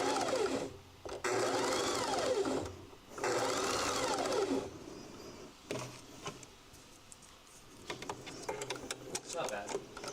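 Sewing machine running in bursts of straight stitching on fabric bookmarks, steady whirring runs separated by short pauses, with a voice talking at times over the motor.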